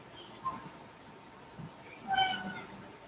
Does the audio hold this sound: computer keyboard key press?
no